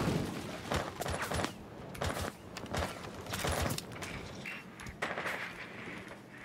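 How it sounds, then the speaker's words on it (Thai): Gunfire in the tactical shooter Rainbow Six Siege: rapid automatic bursts and sharp single shots in uneven clusters, moderately loud, with brief lulls between exchanges. "เฮ้ยมีคนยิงสวนแล้วอ่ะ"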